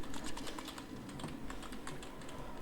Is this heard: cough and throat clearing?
no